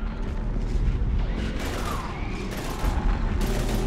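Gunfire in the video game Mass Effect 3 Legendary Edition, dense bursts of shots and booms over a rumbling battle din, loud and continuous, with no talk.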